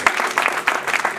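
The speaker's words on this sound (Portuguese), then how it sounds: "Dá uma salva de palmas para Jesus" Church congregation applauding during a family service, a short burst of close, fairly loud clapping with irregular peaks from many hands.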